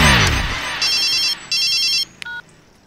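A short electronic phone ringtone: two bursts of bright, beeping tones, then a brief chirp, after a quick descending sweep.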